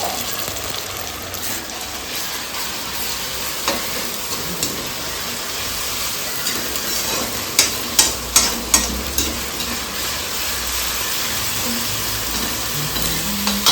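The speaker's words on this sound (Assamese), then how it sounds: "সেইখিনি এতিয়া ভালকৈ ভাজি ল'ম।" Garlic, ginger and jaluk paste frying in a pan for an Assamese duck curry with pumpkin, a steady soft sizzle throughout with a few sharper stirring scrapes near the end, close and without talk.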